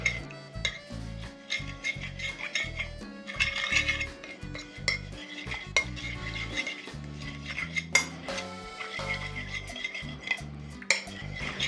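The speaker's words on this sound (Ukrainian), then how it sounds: "Перемішую гарненько." Beetroot salad tossed with apple vinegar in a bowl, spoon clinking and scraping against the dish in an uneven rhythm of close, bright knocks and rattles, no voices.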